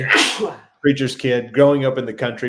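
One sharp, loud sneeze bursts out at the start, then someone talks straight after it.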